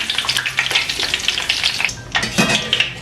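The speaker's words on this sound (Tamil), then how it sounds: "7 காம்பு கருவேப்பிலையும் நான் அப்படியே போட்டு பொரிச்செடுப்போம்." Seven stems of curry leaves deep-fry in hot oil for a Sri Lankan mixture snack, crackling and sizzling loudly and continuously, with bright popping bursts close by.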